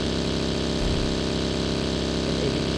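A motorbike engine in a video game hums as a steady, unbroken drone at even loudness for the whole stretch, with a slight throaty wobble and no voices.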